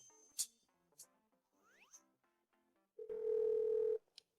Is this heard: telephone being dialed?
yes